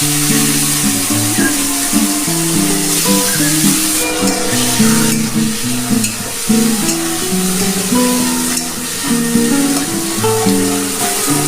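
Dried red chilli, cinnamon, cardamom, bay leaves, cumin seeds and chopped tomato sizzling in hot oil in a pan for an egg curry, a constant loud crackling fry under background music.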